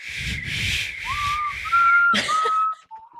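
Breathy, airy attempts at whistling give way to a few thin, wavering whistled tones, quiet and close, with no talking.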